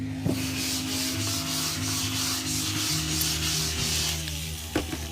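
Close, steady scratchy rubbing as translucent iridescent glitter is worked into soft pastel sticks, a continuous dry friction sound with a brief knock near the end and no talk.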